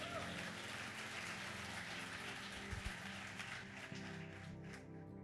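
A church congregation applauds, a dense, steady patter of many hands at moderate distance, sustained throughout with little variation.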